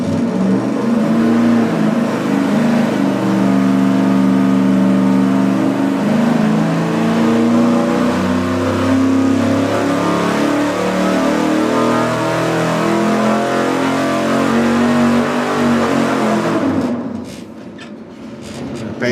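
A carbureted V8 on an engine dyno roars through a sustained wide-open pull, loud and steady with rising harmonic tones for about seventeen seconds before the throttle snaps shut and the roar drops away.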